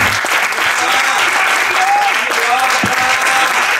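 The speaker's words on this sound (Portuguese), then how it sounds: "Salve de palmas." Audience at a church panel on diversity and gender breaks into a steady, dense round of applause that holds at full strength throughout, with faint voices scattered beneath.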